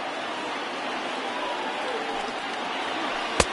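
In a baseball video game, a stadium crowd of over 36,000 rises and cheers with a steady broad roar that swells slightly, ending with one sharp clap-like crack.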